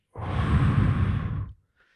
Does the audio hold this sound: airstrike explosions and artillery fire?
no